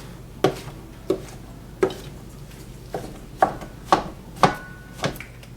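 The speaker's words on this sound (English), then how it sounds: "so just kind of rough chopping all of this just to break them a little bit more into smaller bite-sized pieces" A knife rough-chops mushrooms on a cutting board in a kitchen, making eight or so distinct thuds at a loose, uneven rhythm, close and clear with no talking.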